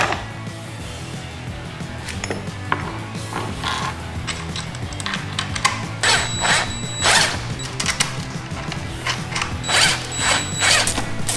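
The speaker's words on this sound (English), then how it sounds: "try to tighten up all the clamps without moving anything" A ratcheting tool tightens clamps on a RotopaX luggage mount for a Yamaha MT-07 adventure motorcycle, giving a close series of rapid clicking ratchet strokes with metallic knocks and handling noise.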